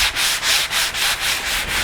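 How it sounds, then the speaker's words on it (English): Rhythmic rasping of sandpaper rubbed back and forth over wood, steady strokes close up with no voices. "even the hand sanding takes a substantial amount of the rough wood surface off"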